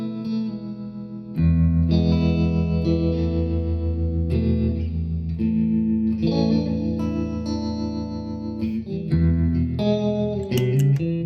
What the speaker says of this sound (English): Okay, so now we have the tremolo, some reverb.